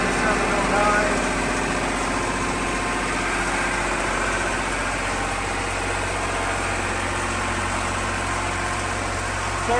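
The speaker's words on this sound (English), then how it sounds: "So there's a quick demo of the Miller DU-OP welding generator" Miller DU-OP welding generator engine idling steadily for the whole stretch, a loud, constant mechanical drone with vibration and no change in pace.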